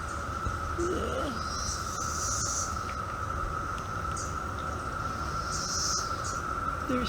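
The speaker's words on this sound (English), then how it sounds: "They're cicadas." Cicadas drone in a steady, continuous high buzz that fills the whole stretch outdoors, with fainter insect trills rising and fading over it and no talking.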